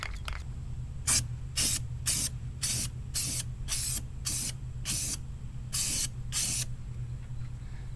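An aerosol can of undercoating sprays a light coat onto the wheel well of a Chevy Duramax dually truck in about ten short hissing bursts over a steady low hum.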